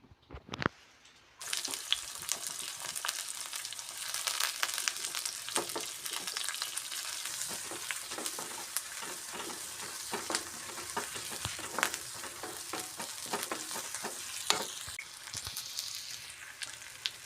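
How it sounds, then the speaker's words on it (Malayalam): Dense crackling and popping of mustard seeds in hot oil before greens are added, close and continuous, with a sizzling hiss underneath and no talking. "കടുക് പൊട്ടി വരുന്നുണ്ട്."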